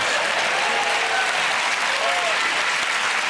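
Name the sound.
studio audience applause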